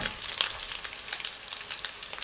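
Hot cook sizzles and crackles as it fries in a pan at home, a busy close-up spatter of pops over a steady hiss.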